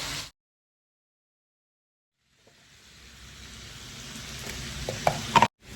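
Chicken fries in a pan for butter chicken, a steady hiss and sizzle building gradually after a silent stretch, with a few sharp clinks of stirring near the end.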